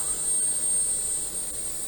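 An F-100 Super Sabre jet engine starting up: a steady roar with a high, thin whine running over it, continuous and fairly loud.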